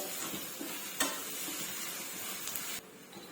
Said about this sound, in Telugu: అల్లం వెల్లుల్లి పేస్ట్ అయితే వేసుకుందాము.